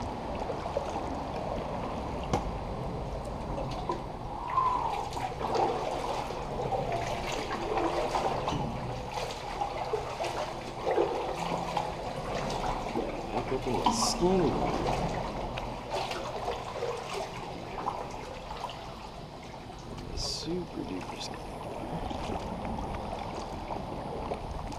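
Kayak paddling through a calm backwater full of bait, soft rhythmic paddle splashes and water trickling along the hull, faint and close, with no talking.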